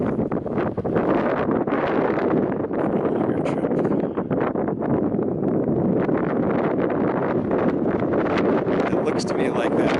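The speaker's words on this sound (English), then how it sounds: "It is getting windy here." Strong wind at Lee's Ferry buffets steadily for the whole stretch, a loud continuous rumble and roar with gusty fluctuations.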